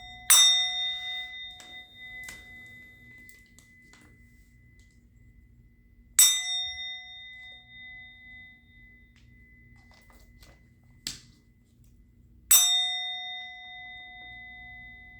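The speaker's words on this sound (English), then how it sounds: "I'm going to ring the bell." Bell rung three times at even, widely spaced intervals, each strike a clear, bright ring that fades slowly, with faint small clicks and taps between strikes in a quiet room.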